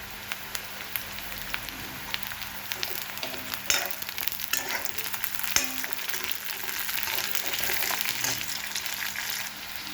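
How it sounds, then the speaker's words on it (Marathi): Sliced onion and green chili sauté in a hot pan with a constant crackling sizzle, broken by scattered clicks and light spatula taps. "छान असा आपला ओली मिरची आणि कांदा परतून झालेला आहे"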